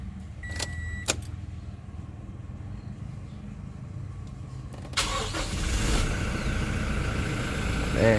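A Toyota Kijang Innova Reborn 2021 G diesel automatic is started: a few faint clicks come first, then the engine cranks and catches, settling into a steady, close diesel idle that grows slightly louder toward the end.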